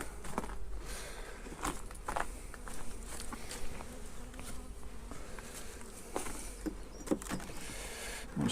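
Honey bees drone steadily around a back garden hive, a close, faint buzz that rises and falls with occasional louder passes.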